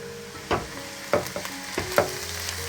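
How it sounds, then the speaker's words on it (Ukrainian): Chopped onion sizzles in a frying pan, lightly browned, with a steady hiss broken by several sharp scraping stirs of a utensil, close and moderately loud, with no voices. "Цибулька вже готова. Злегка підрум'янилася."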